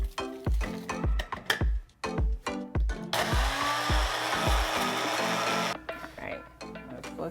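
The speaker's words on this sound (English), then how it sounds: "I'm using a coffee grinder, but I don't drink coffee. I only use this to blend my spices." A coffee grinder used for spices whirs steadily, grinding dried nori seaweed sheets into powder. A sustained loud burst sits in the middle, surrounded by a series of sharp knocks and taps with a voice speaking over them.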